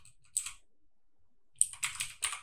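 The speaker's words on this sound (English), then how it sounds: "And let's type something here." Keystrokes on a computer keyboard while entering text in texturing software: a brief tap, a pause, then a quick cluster of crisp clicks, close and quiet.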